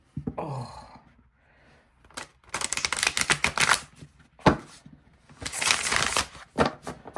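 A thick tarot card deck being shuffled in repeated riffling bursts, crisp and close, with short pauses between shuffles and no talking.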